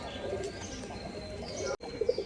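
Pigeons kept for sale, including a pair of black Jack pigeons, give soft low coos amid a murmur of background noise and faint chirps, with a brief dropout and a clearer coo near the end.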